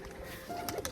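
Pigeons coo softly from inside a home loft where paired birds nest on eggs, a few low murmuring calls rising over quiet background rustle near the end of a brief moment.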